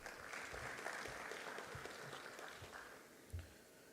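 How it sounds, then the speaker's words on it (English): Applause from a conference audience, with sustained clapping from many hands filling the room at a moderate, steady level throughout, heard alone with no talking over it. "I think it is just fitting that we give them a round of applause."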